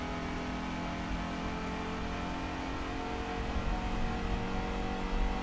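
A Fiat Coupe Turbo Plus race car in Gran Turismo 2 roars continuously at close range, the engine note sustained and rising slightly in revs toward the end.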